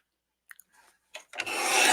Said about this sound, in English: I'm going to trim that off.